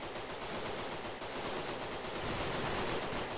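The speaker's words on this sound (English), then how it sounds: "An MG there." Dense, continuous machine gun fire from the video game Foxhole, a steady rattling wall of shots holding at high, even loudness for the whole stretch with no voices above it.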